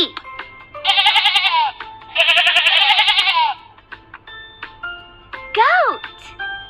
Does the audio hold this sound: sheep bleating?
yes